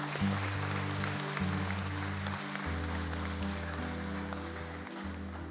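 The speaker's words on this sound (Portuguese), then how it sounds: "Aplaudam Jesus" A church congregation applauding during a worship service, steady clapping held under sustained music for the whole stretch.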